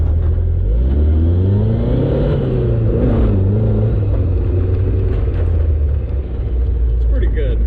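An old Italian sports car revving hard in a burnout, its engine droning loud and close as the pitch rises and falls, with people talking over it.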